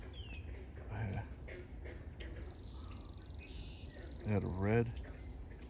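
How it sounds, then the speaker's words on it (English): Frogs call in a park wetland beside a boardwalk in Howland Township Park: faint croaks early on, then one louder, close, rasping pulsed croak near the end, while someone talks briefly. "you could hear so many frogs out here"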